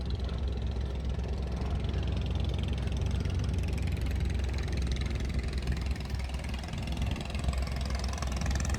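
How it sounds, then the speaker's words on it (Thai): A long-tail fishing boat engine on the coastal waters off Pattani, Thailand, runs steadily and loudly with a rough, continuous mechanical drone and no break in its note. "เสียงลั่นหมดเลยครับนี่คือพี่น้องเรือหางยาว"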